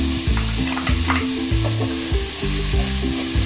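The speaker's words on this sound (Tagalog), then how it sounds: "Lutuin nyo muna ng konti. After yung luya, yung bawang, pampabango." Ginger and garlic frying in oil for papaitan, a loud steady sizzle close to the listener with repeated spatula strokes scraping the pan, no voices.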